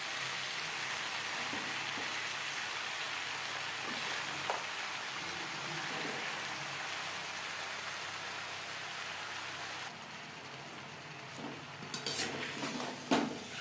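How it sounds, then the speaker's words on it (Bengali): Spinach pieces and vegetables being stirred in a cooking pan, with a quiet continuous sizzle and scattered soft scraping, growing into louder clanks of the utensil against the pan near the end. "শাক বেশ ভালো করে মিক্স করে দেবো।"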